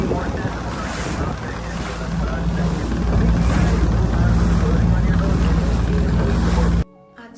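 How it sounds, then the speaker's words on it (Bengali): A speedboat engine drones steadily while the hull slaps through rough sea waves, with strong wind buffeting the microphone, until the sound cuts off abruptly near the end. "বেশ ঢেউয়ের মধ্যে দিয়ে যখন বোটটা যাচ্ছে"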